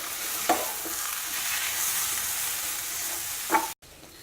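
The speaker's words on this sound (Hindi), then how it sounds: "अब हम क्रश किया हुआ मटर की पेस्ट डालेंगे और मटर को हिला दें।" Crushed green pea paste stirred as it fries in a pan over a low flame, a steady close sizzle with two brief scraping strokes of the spoon, then a short cut and quieter hiss.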